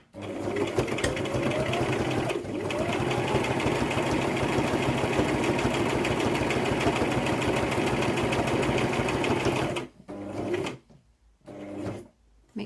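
Sewing machine stitching fabric for a double-layer pleated face mask, a fast steady mechanical whirr running close and loud, one brief pause early, then stopping with short bursts and clicks near the end.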